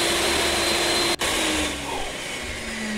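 A chop saw runs in the Roblox game Lumber Tycoon 2, giving a steady, loud mechanical whine with a brief dropout partway through. After the dropout it continues at a slightly lower level.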